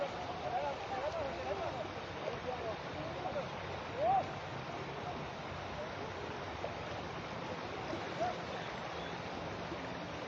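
Fast floodwater surges across the submerged Sylhet–Salutikar road toward nearby villages, a continuous rushing wash with faint voices and a few small splashes over it.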